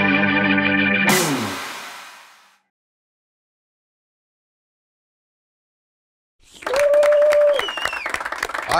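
An audience breaks into applause at a Romanian music and talk show, a loud burst of clapping that fades out and then returns strongly after a stretch of silence, with sung or spoken voice over the second burst.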